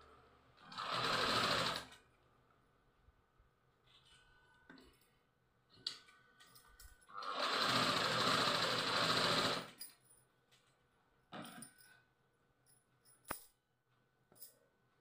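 A sewing machine stitches a child's zero-size frock in two bursts of rapid whirring, one short and one longer, separated by quiet clicks and small handling noises, close and moderately loud.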